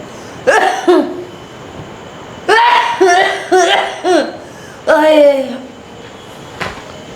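Someone coughs in a Haryanvi family drama scene: several rough, voiced coughing bursts in two main clusters, close and fairly loud, with short pauses between fits and a faint hum beneath.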